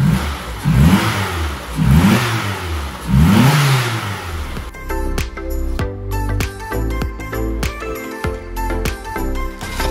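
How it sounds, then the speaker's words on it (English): A 1993-2007 Renault Twingo engine runs after maintenance, revving in three rising bursts, after which jingling music takes over. "Now we're going to start up the car, see if she runs okay."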